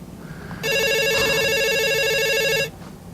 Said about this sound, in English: Is that a phone I hear?